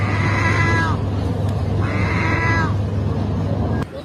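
Two drawn-out cat-like meows from a seagull imitating a cat, spaced apart over a constant low engine hum, loud and close.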